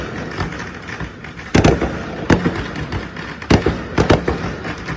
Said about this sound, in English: Here are some fireworks being fired off in New York.